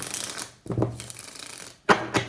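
Tarot cards are shuffled by hand in a few quick bursts, with crisp riffling and slapping sounds separated by brief pauses, close and fairly clear with no talking.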